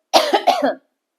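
A short, close burst of throat clearing, a few rough guttural pulses lasting under a second, then silence.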